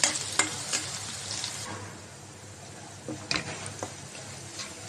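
Onion frying in a pan, with a steady, soft sizzle and occasional light stirring scrapes, close and continuous with no voices.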